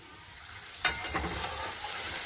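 Chicken pieces for chicken curry sizzling in hot oil, a soft steady crackle with a sharp spitting burst early on, close and unaccompanied by voices.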